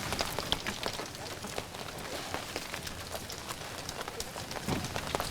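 Steady rain pours down outdoors, a dense continuous hiss with scattered drop impacts, fairly close and even throughout with no voices.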